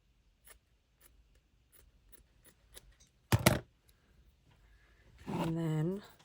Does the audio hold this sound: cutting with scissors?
yes